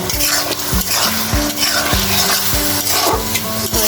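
Dried fish (shutki) sautés with raw onion paste and ginger paste in a pan: a steady sizzle is broken by regular scraping stirs about twice a second, close and clear with no voices.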